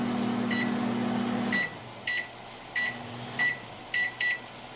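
Kitchen timer being set while butter heats on the stove: a steady hum gives way to a series of short, sharp electronic beeps, about six spaced irregularly, close and clear.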